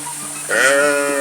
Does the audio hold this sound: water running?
no